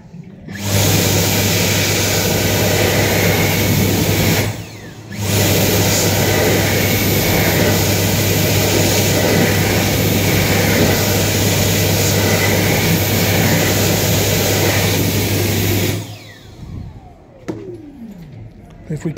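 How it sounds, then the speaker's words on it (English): A Dyson Airblade DB hand dryer blasting in a refurbished washroom, a loud steady rushing roar with a low hum that cuts out briefly, restarts, then stops near the end while a person talks over it. "we now have a Dyson Airblade DB"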